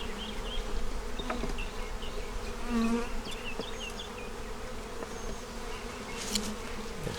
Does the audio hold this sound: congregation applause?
no